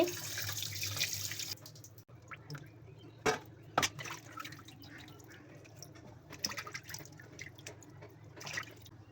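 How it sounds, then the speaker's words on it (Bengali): Raw chicken pieces being rinsed under a running kitchen tap, a steady stream of water into a sink with splashes and a few sharper knocks and drips. "আমি এখন মুরগিগুলা ধুয়ে নিচ্ছি"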